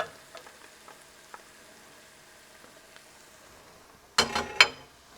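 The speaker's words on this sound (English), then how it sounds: "this is the point where I like to add the garlic that we crushed" Crushed garlic is added to a hot frying pan; faint scattered crackles give way to two short, sharp bursts of sizzling near the end.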